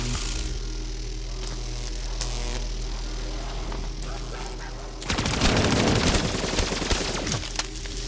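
Weapon fire in the Kino der Toten zombies mode of a Call of Duty game: a steady low drone gives way midway to loud, dense bursts of automatic gunfire that continue to the end, with no speech heard.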